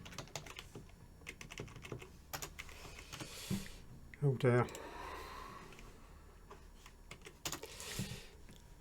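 Someone types on a computer keyboard they are struggling with, sending out quick irregular bursts of close key clacks scattered through the moment, with a short spoken exclamation and a louder clatter near the middle.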